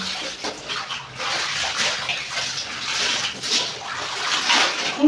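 Clothes are washed by hand with water and soap, with repeated splashing, sloshing and wet scrubbing in irregular bursts close by, fairly soft, and no speech.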